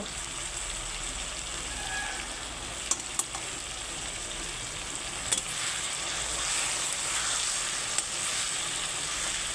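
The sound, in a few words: mutton curry spices frying and being stirred in pan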